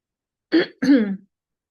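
Two short throat-clearing coughs in quick succession, close and fairly loud, then quiet.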